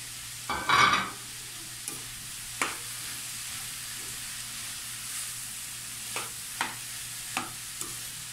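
Bamboo shoots and okra cooking in coconut milk in a pan: a sharp clatter early on, then a steady, close sizzle with light, scattered stirring taps throughout.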